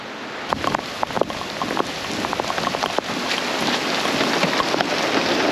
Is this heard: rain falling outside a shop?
yes